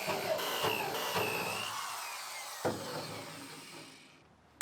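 A power tool grinds and cuts at the spot welds on the floor of a 1965 Mustang body, a harsh whine with a few sharp knocks that fades out near the end.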